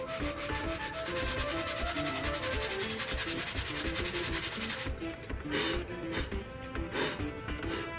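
A power sander works steadily and loudly against a hand-carved wooden sword coated with wood filler, a continuous close grinding rub that breaks into shorter passes and pauses toward the end.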